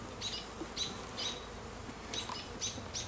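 Honeybees buzz in short bursts at an apiary as hive frames are pulled, against a steady noisy background, faint and somewhat distant, with a few higher chirps mixed in.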